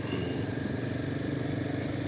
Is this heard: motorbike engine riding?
yes